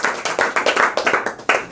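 Students in a classroom clap together in a brisk, rhythmic burst of about a dozen distinct, close hand claps with a short pause near the end, loud and clear without talk.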